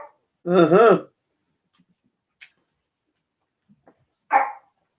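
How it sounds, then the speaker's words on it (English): A single faint, howling bark-like call from a distant dog rises and falls in the quiet, followed by a few soft clicks and a short breathy sound. "I think I just heard one of my dogs in the distance."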